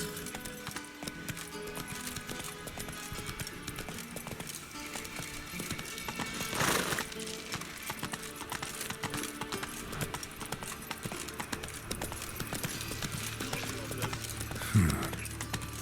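Roach, a horse in The Witcher 3, clip-clops along at a steady hoof rhythm amid game ambience and music, with a brief louder burst partway through; a voice speaks softly now and then.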